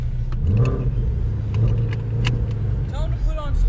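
A 2019 Shelby GT350 drives along with a low engine rumble and steady road noise from inside the cabin, while people talk over it.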